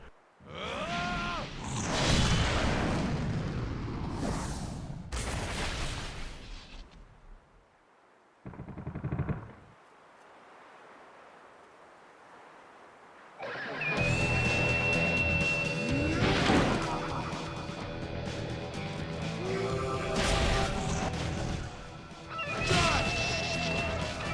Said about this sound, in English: After Yasha's mask shatters into pieces, the chains are fucking off